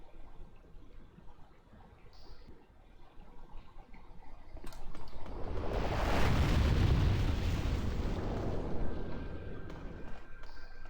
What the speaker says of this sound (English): What I would like to do is to detonate all of the white spirits, if I can